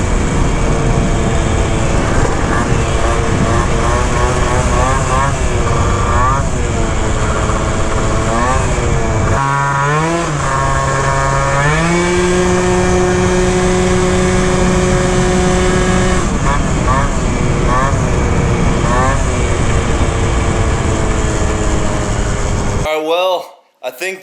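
A Malaguti Phantom F12 scooter with a 70cc engine, NCY pulley and tuned variator, revving hard to about 11,000 RPM during break-in: a loud, close, buzzing two-stroke whine that climbs and holds high pitch, then cuts off abruptly near the end.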